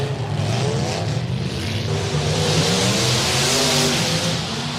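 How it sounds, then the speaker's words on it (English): Race cars at an autocross demolition derby roar with steady, loud engine noise, engines revving and droning continuously throughout with no break. "Let's see the autocross demo derby."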